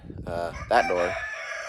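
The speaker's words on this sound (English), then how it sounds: "Dang rooster." A rooster crows nearby, a single loud, drawn-out call rising and then trailing off, near a garage.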